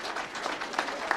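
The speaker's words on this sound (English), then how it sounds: "So please give him a big round of applause." An audience at an inspirational lecture event applauds as a distinguished guest is escorted to the stage, giving a short burst of many hands clapping with a few sharper claps standing out.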